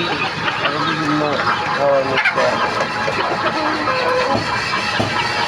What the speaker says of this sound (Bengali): দেখুন বন্ধুরা কি সুন্দর মুরগিগুলি খাইতেছে আরামসে